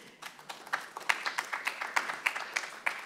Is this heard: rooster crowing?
no